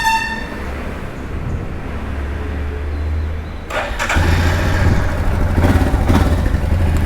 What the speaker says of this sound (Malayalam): ഞാൻ ജസ്റ്റ് വണ്ടി ഒന്ന് സ്റ്റാർട്ടാക്കാം